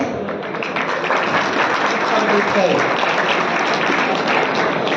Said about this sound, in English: they need a round of applause from all of us